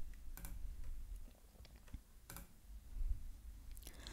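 Keys clatter on a computer keyboard as a program is typed out, an uneven run of soft clicks with a few louder bursts, close and quiet, with no voices.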